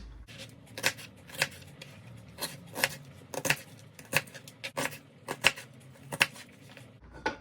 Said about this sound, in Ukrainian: Нарізаємо на зажарку цибулю.